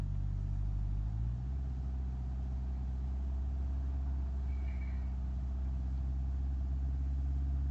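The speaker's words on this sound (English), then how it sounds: "it's good to drive it on a dirt road" An Ibishu Covet driving on a dirt road in a video game, a steady low engine drone that shifts pitch slightly early on, then holds an even hum.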